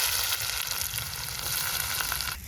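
Bay leaf, dried red chillies, cumin and garam masala hit hot oil in a kadai over an outdoor picnic cooking fire, giving a loud, dense, steady sizzle that carries unbroken for the whole stretch and eases slightly at the end.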